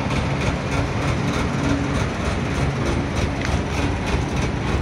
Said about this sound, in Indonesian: Wah, knalpotnya ngorok ya.